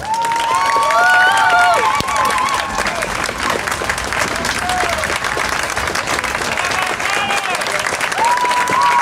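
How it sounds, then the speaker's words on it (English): Loud, sustained applause from a crowd at a youth trophy presentation, with scattered cheers and whistles rising over the clapping. "Please join me in giving this great group of kids a great big round of applause."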